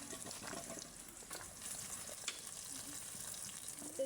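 Spinach frying in a pan sizzles quietly and steadily while it is stirred, with soft scraping movements and faint splashy bursts.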